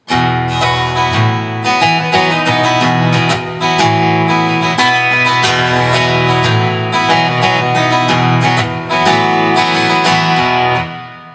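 Loud, dense electric guitar playing with driving strummed chords and a full band sound in the bridge of a song, continuing steadily without any talking.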